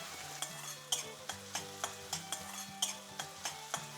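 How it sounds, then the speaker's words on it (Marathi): Onion, tomato and kasuri methi sautéing in oil for a creamy methi matar malai, a steady sizzle broken by a regular rhythm of spoon scrapes and knocks against the pan, close and alone without talk. "कांदा टोमॅटो आपला परतून झाला आहे."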